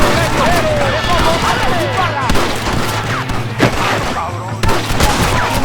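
Gunfire crackles through a Red Dead Redemption shootout, dense volleys of shots and thuds layered over continuous voices and background din.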